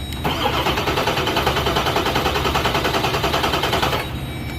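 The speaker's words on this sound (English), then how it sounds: "So we're just gonna listen to it crank over and make sure it's not hydro locked." A Ford 7.3 Powerstroke diesel engine, glow plugs removed, cranks over on the starter with a loud, fast rhythmic chugging that runs steadily for about four seconds before stopping abruptly, leaving a quieter hum.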